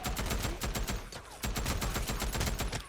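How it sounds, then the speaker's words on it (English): Rapid machine gun fire in Days Gone mows down a horde, dense bursts of rhythmic shots pounding continuously and loudly, with one brief pause near the middle before the firing resumes. "you can see how effective the MG is with taking on hordes as well"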